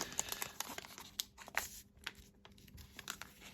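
A Pokémon card booster pack from a Sorcilence box is torn open by hand: crisp, crinkly foil ripping in short uneven bursts, close and fairly quiet.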